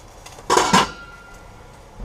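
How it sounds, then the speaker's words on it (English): A metal lid lifted off a pot of boiling chicken soup gives two quick close clanks in a row, followed by a faint ringing tail in a quiet kitchen. "Matter of fact, I think I'm going to take the lid off"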